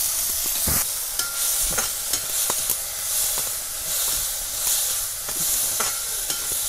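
Garlic and onion frying in oil for a masala curry after mustard seeds pop, with tamarind added too: a steady close sizzling hiss broken by sharp clicks and taps of stirring.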